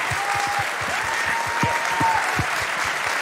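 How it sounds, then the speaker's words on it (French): An audience applauds continuously at the closing of a charity speedrun marathon, with thick, even clapping and some individual claps standing out close by, plus faint whistles. "Vous pouvez les applaudir"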